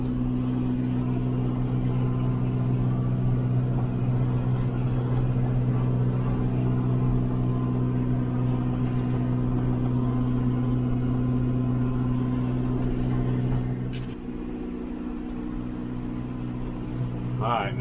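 A tractor engine drones steadily with a low, constant hum while riding along a trail with a Jack Russell terrier aboard, then shifts and dips slightly near the end; someone talks intermittently over it.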